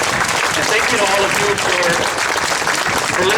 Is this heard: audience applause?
yes